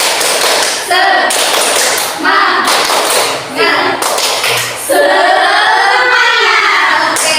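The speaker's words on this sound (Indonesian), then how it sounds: "Tepuk semangat." A classroom group performs an Indonesian rhythmic spirit clap, led by a teacher during a project-based learning session. Loud, patterned bursts of clapping and tapping in short rhythmic sets are mixed with voices chanting and calling out together.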